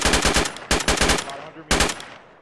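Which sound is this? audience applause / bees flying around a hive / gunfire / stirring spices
gunfire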